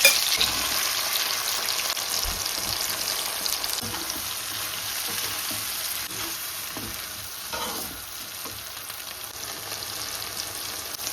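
Prawns frying in hot oil, giving a loud, continuous close-up sizzle that hardly changes, with faint stirring scrapes underneath and no talking.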